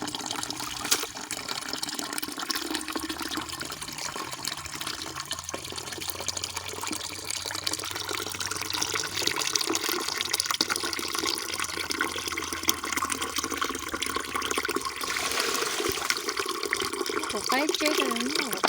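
Steady rush of river water from the mountains running through a garden hose, a continuous close splashing flow that lasts throughout, with people talking over it.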